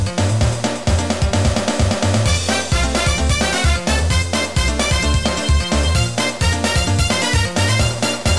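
Game music rendered with the Final Fantasy IX soundfont: a dense, steady arrangement of punchy bass, layered synth instruments and percussion running continuously for several seconds, with no voices.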